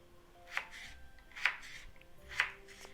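A knife cuts potato into sticks on a board with three crisp, evenly spaced chops, close up, with faint background hiss between strikes.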